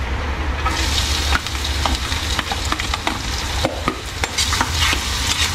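Garlic and onion fry in a pan with a steady, close sizzle, broken by repeated sharp scrapes and knocks of a utensil stirring the mixture.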